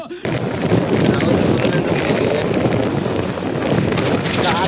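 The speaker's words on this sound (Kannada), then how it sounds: "ಫುಲ್ಲು ಮಳೆ ಗೈಸ್." Heavy monsoon rain pours during a motorbike ride, mixed with loud roaring wind that buffets the microphone continuously from start to end.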